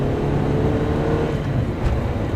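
A Peugeot 205 XS engine pulls hard out of a corner with a loud, steady drone, heard from inside the car, with no talk.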